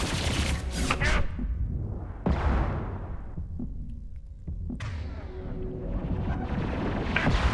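Gunfire in a Mass Effect 2 Legendary Edition firefight. Rapid shots come in rattling bursts with pauses, over a throbbing hum and rushing swells, while a voice speaks briefly.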